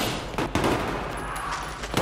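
Gunfire in the video game Battlefield 3 comes as a short cluster of sharp shots, loud and close, in a brief burst with no talking.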